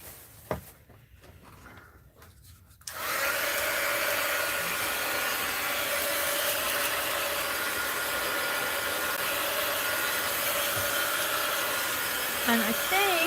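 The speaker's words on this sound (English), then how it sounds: "Let's just hit it a little with the heat gun." Heat gun blowing on a mixed-media art journal page: a steady, loud rushing hiss of hot air that starts abruptly after a few quiet handling sounds and runs without a break.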